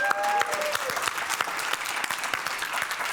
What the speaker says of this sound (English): I just wanted to get some applause